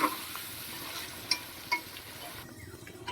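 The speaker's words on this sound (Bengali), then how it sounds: "ভালো করে একটু নাড়িয়ে চাড়িয়ে নেবো আমি মশলাটার সাথে চিকেনটা যাতে ভালো করে মিশে যায়" Chicken pieces being stirred through burnt masala in a pan, a soft low sizzle with a few sharp clinks of a spoon against the pan, quiet and brief, no talking.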